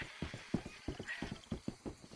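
Steady rhythmic clip-clop of a horse's hooves in Red Dead Redemption 2, close and moderately quiet, with no talking over it.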